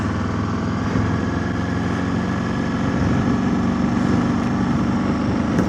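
Motorcycle engine idling steadily in snow in Minnesota, a close, even low rumble that holds without revving for several seconds, with no talking.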